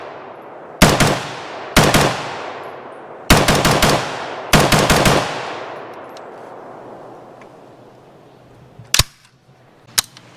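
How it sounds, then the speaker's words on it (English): Colt M16A2 or FN M16A4 rifle fired in a series of close, loud shots: single cracks and quick multi-shot bursts with ringing decay, then two sharper separate reports near the end, no talking. "But even I can shoot this just fine,"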